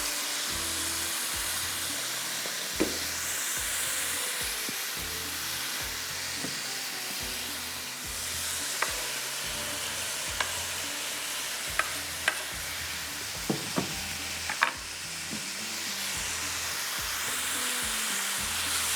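Finely chopped tomatoes fry for a dum chicken handi, a continuous hissing sizzle close by, punctuated now and then by brief clicks and knocks of a spoon stirring the pot.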